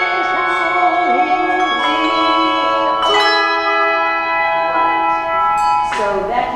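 Handbells ring through a workshop session, with overlapping sustained tones struck in clusters, fresh strikes near the start, around three seconds and near six seconds, each decaying into a steady shimmering wash without talk.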